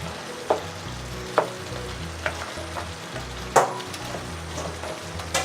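Crab curry masala is stirred in a hot pan, with a steady sizzle broken by periodic soft scrapes and taps of the spoon, close and with no one talking.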